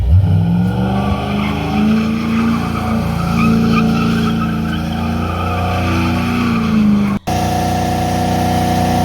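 A race car on track with its tires skidding and squealing, smoking as it goes, a loud sustained engine-and-tire screech filling the scene before cutting abruptly to a steadier, quieter drone near the end.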